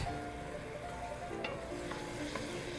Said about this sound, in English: And now we let the rice toast a bit.